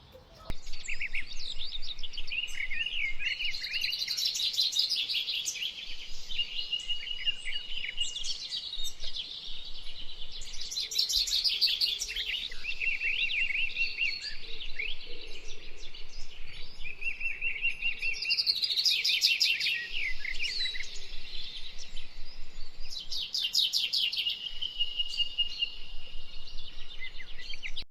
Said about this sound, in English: If you hear birds chirping in the background